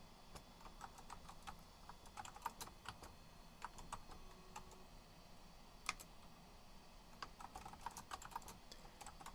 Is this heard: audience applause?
no